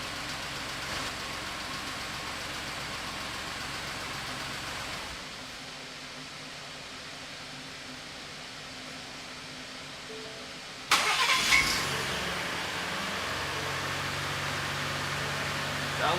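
A 2017 Ford F-150 with a swapped 3.5L EcoBoost engine cranks steadily for several seconds, then fires and settles into a rough idle, close up with no talking.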